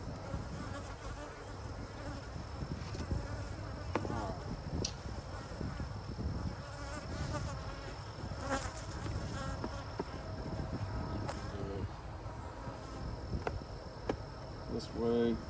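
Honey bees swarm and buzz around an opened hive in an apiary during a split inspection, a dense steady drone close to the microphone throughout, with someone talking intermittently over it.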